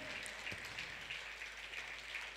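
An audience at a seminar honouring ceremony claps together in steady, even applause, faint and somewhat distant, with no speech over it.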